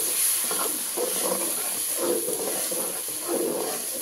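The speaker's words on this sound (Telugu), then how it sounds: "ఈ మసాలా బాగా అడుగు అంటుకోకుండా ఇలా వేయించుకోవాలండి" Close sizzling of masala paste frying in a pan for aubergine masala, with a steady hiss and repeated scraping stirs in an irregular rhythm.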